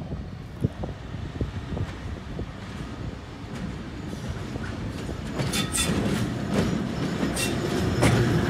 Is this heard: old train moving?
yes